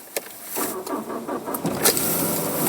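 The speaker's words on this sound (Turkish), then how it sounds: "Araba çalıştı." Car engine cranking and catching on a cold, snowy winter morning in Espoo near Helsinki, several short mechanical clicks and whirs, then a rising engine rumble, heard close with no talking.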